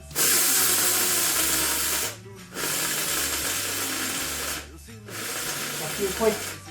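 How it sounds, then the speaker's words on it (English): Three loud bursts of harsh, whirring grinding from a small electric coffee grinder grinding spices, each lasting a couple of seconds, separated by brief pauses. "this is a coffee grinder, but I don't drink coffee. I only blend spices in it."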